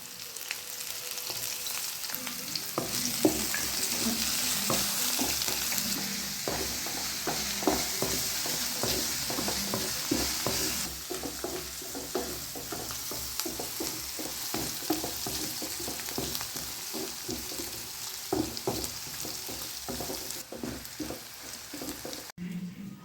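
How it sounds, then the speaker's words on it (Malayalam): Green chilies and onions sizzle steadily in hot oil in a pan while being fried until brown, with a continuous crackle and frequent scraping and clinking of a spoon stirring, close and fairly quiet. "നമ്മുടെ കയ്യിൽ പച്ചമുളക്, ഉള്ളി, ഇതൊക്കെ ഒന്ന് ബ്രൗൺ കളർ ആകണം."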